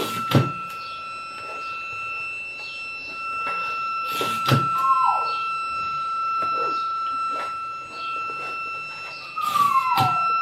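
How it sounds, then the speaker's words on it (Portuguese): A distant siren-like tone from a bread delivery vendor holds steadily in the background, with occasional sharp knocks and clatters nearby. "A sirene do pão"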